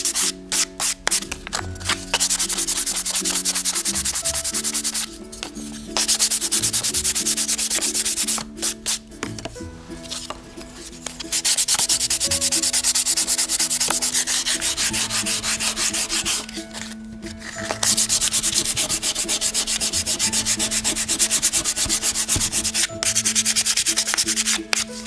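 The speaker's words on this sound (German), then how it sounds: "werden die erste Schicht so weit abschleifen" Steady close-up scraping of sandpaper over chalk-style paint on a surface, sanding the top coat until the lower paint layer shows through, in long continuous strokes broken by short pauses.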